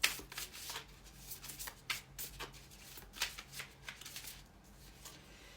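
An oracle card deck, the Oracle des reflets du cœur, riffled and shuffled by hand at close range, quiet repeated papery flutters and slaps in uneven bursts with no talking.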